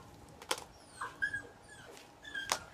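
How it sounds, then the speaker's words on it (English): A puppy crying sound effect played aloud: a few short, high whimpering whines spaced across about three seconds, fairly faint, with sharp clicks in between. "let's try puppy crying sound effect"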